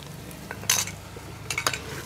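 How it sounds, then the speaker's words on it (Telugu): Coriander powder frying in ghee for a village-style egg curry, giving a soft steady sizzle with a few sharp scrapes and clinks of a spoon stirring against the pan. "ఇప్పుడు ధనియాల పొడి కూడా ఇలానే వేసుకొని వేపుకోవాలి."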